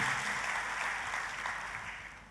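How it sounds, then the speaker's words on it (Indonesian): Faint, distant applause from a church congregation, a soft steady patter of clapping that slowly fades. "Tepuk tangannya."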